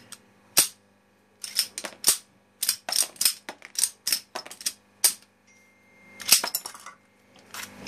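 Slide of a Sarsılmaz Kılınç 2000 Light pistol worked by hand: a run of sharp, close metallic clicks and clacks in irregular bursts, separated by short quiet gaps.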